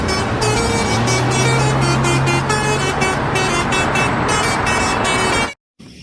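A toy double-decker bus horn honks loudly and continuously with a pulsing, melodic tone that cuts off abruptly near the end.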